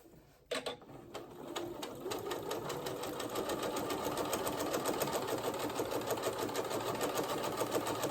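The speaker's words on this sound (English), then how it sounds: "And your sewing machine will make a different noise. It's because the elastic." A sewing machine stitches shirring elastic onto shirt cuffs, starting with a sharp click, then running in a fast, even, rhythmic chatter that holds steady and close throughout.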